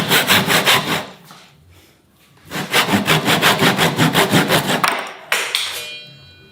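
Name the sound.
hand saw cutting wood for a Japanese joint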